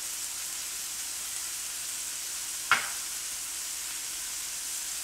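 Onions, carrots and garlic fry in a pan, a constant crackling sizzle that stays even throughout, broken once by a single sharp clink midway, close and alone.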